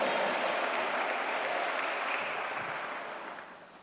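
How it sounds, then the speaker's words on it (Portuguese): Church congregation applauding during a Baptist communion service, a dense, steady wash of clapping that starts full and gradually fades toward the end, with no voices over it. "Aplauda o Senhor, dê um brado de vitória"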